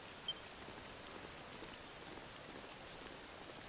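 Steady rain in the video game Dragon Quest 7 Reimagined, a soft continuous hiss of falling drops at low volume with one brief tick near the start and no voices.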